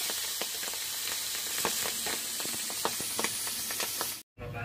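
Milkfish (bangus) frying in a pan, a steady dense sizzle with scattered sharp crackles and pops, fairly close, ending in a brief cut of silence before the sizzle returns.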